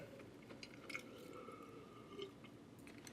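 Someone chews a chocolate cookie with soft, moist crunching and squishing bites, heard close but faint against a low background hiss, with no talking.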